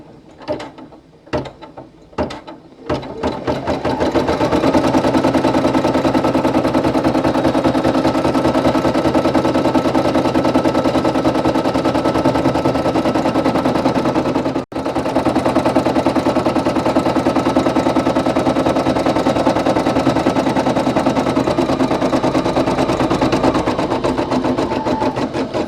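A Brother PE800 embroidery machine stitches a design with a fast, steady mechanical clatter, close and loud, after a few separate clicks at the start and one brief pause midway.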